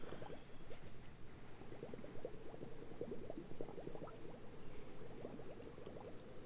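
Water flooding a ship's compartments in the Floating Sandbox sinking-ship game, a steady low bubbling and gurgling churn with rapid burbling pops, quiet and continuous.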